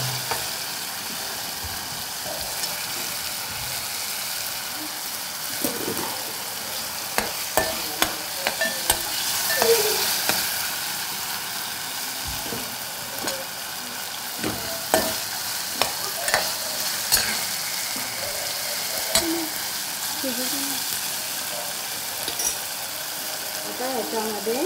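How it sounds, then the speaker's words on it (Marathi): Tomatoes sautéing in a pan for a Marathi-style prawn and Bombay duck fry, giving a steady soft sizzle with repeated spoon stirs and scrapes throughout, no talking. "आणि टॅमॅटो चांगलं परतून घ्यायचं।"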